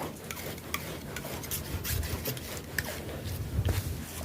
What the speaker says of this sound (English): Now I'm going to sharpen my knife.